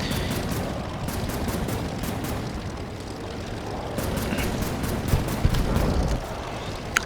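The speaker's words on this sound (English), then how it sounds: "so I just start shooting at these dudes" Rapid gunfire from aircraft shooting in an Air Wars 3 game built in Unity, with dense, continuous bursts over a droning engine, loud and steady throughout.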